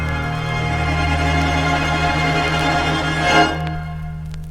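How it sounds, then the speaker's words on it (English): A sustained orchestral string sample plays back at its original speed, a dense, steady held chord with a strong low drone and bright upper harmonics, swelling briefly near the end before fading, with no voices. "So this string sample, if I play the original of it,"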